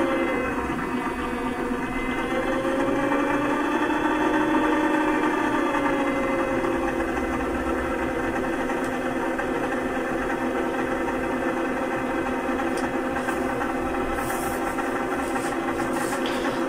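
A mechanotherapy rehabilitation machine shakes a patient's hands after a broken shoulder, giving a continuous, even mechanical buzzing hum at moderate level throughout.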